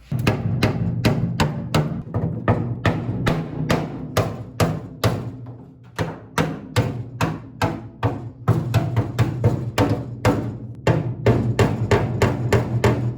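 Hammer blows bashing out a line in Datsun 240Z sheet metal, a fast regular series of sharp metallic strikes, loud and close, with one brief pause, no speech.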